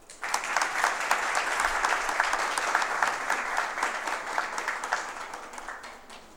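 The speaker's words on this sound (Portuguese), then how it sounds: "Uma salva de palmas." Audience at a formal council ceremony marking World Autism Awareness Day gives a sustained round of applause, a dense, even clatter of many hands that starts abruptly, holds steady and tapers off at the end.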